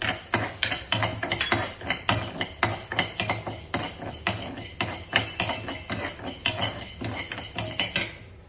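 A spoon scrapes and clinks against a kadai as urad dal is stirred and dry-roasted for moringa powder. The metallic strokes come at a steady rhythm, roughly two per second, with no one talking.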